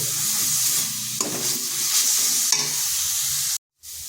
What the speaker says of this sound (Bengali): সামান্য ধনে গুঁড়ো আর সামান্য জিরে গুঁড়ো ভালো করে মিশিয়ে নিচ্ছি